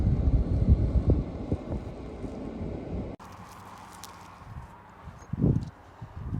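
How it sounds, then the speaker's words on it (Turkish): Gusty wind buffets the microphone in low rumbling bursts, easing midway, then a short louder gust returns near the end. "Hava rüzgarlı."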